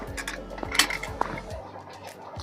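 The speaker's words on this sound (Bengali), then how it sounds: "এবার ঢাকনা খুলে নেব" The metal lid of a pressure cooker holding boiled cucumbers is opened after it has finished whistling and the pressure has settled, making a few faint metallic clinks and a short scrape in a quiet kitchen.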